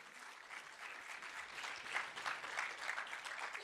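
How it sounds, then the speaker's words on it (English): Audience applause for panelists at a media breakout session, a soft, distant, continuous patter of many hands clapping, faint and even throughout with slight swells. "Let's give another round of applause for all our panelists."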